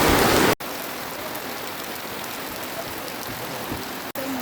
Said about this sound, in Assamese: বৰষুণ দি আছে আকৌ পুৰা।